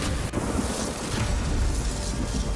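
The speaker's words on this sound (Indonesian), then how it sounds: "Serta tungku alkimianya mengalami ledakan." A dense, sustained roaring blast with a sharp burst near the start, rumbling loudly and continuously like an explosion's aftermath, from an alchemy furnace exploding.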